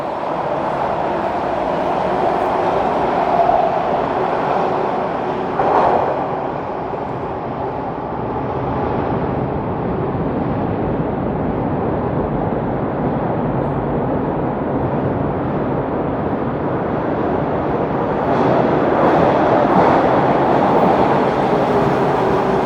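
Steady rumble of a Toronto subway train departing a station on a rainy day, with rising and falling mechanical whine, continuous and fairly loud throughout, no voices.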